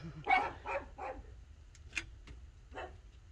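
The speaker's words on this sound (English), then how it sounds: "the puggies are barking" Several sharp pug barks, a quick burst of three followed by a few scattered yips, fairly close with a quiet, cold, snowy outdoor background.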